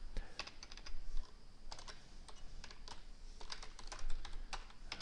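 Fast, irregular clacking of keys on a computer keyboard, close and fairly quiet, with bursts of rapid keystrokes and brief pauses while HTML heading tags are being entered.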